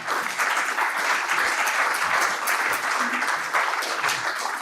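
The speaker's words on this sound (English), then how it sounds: "please, another round of applause for David, for Gabriel, and for Michelle" An audience at a geopolitical summit panel applauds the speakers, a full, sustained round of clapping filling the hall at steady loudness.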